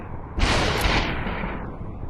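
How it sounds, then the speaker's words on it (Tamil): Gunfire in the VR shooter game Superhot VR: a single loud, close burst erupts suddenly and then trails off into a long, fading roar with no talk over it. "இத்தனை புல்லட் விட்றேன் உனக்கு ஒரே புல்லட்டு"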